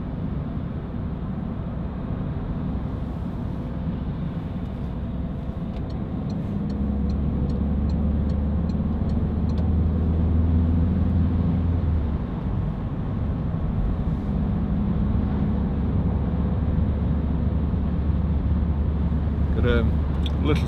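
A Citroen C3 Picasso 1.6 HDi diesel engine accelerates from inside the cabin, a steady low droning rumble rising slightly in the middle, with road noise and talk over it.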